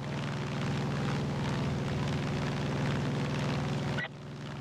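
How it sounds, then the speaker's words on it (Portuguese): Airplane engine droning in Far Cry 5, a loud steady propeller roar with a low pulsing hum that holds for about four seconds before dropping abruptly to a softer rumble. "Esse avião nunca decepcionou nenhuma geração dos Ryans."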